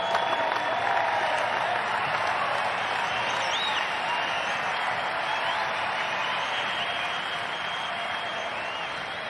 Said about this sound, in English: Mitch, a big applause from the hometown crowd.